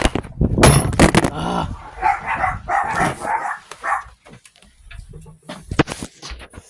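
Several sharp dog barks in quick bursts near the start, followed by excited yelping and whining, with a few more scattered barks later.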